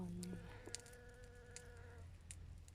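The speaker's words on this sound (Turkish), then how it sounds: "Arı hanımefendi. Bal toplar buradan bakın." A honey bee buzzes among garden flowers, a faint, steady hum with a few brief louder passes over low background noise.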